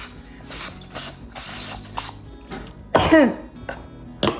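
Someone coughs and clears their throat a few times at close range after spraying lots of cooking spray, mixed with clicking mechanical noises and short rasping bursts.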